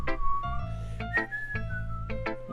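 A person whistles a tune in steady, clear sustained notes with slight pitch slides, close and fairly loud over a low steady hum from a video game's background music.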